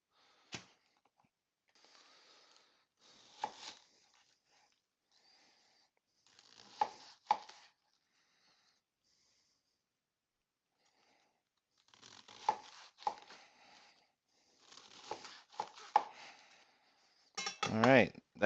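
Knife chopping cabbage on a cutting board while making a spicy shrimp coconut curry, heard as clusters of close, crisp chops separated by quiet pauses, ending in a louder burst of rapid cutting.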